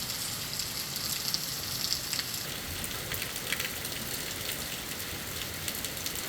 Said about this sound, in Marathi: संभाजीनगर जिल्ह्यामध्ये जोरदार पाऊस बरसतोय.